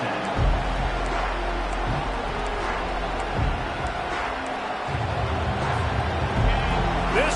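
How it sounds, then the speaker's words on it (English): A large stadium crowd at a football game roars steadily throughout, a dense wash of cheering and shouting with occasional louder swells, heard from within the stands. "This crowd bringing the energy and noise early"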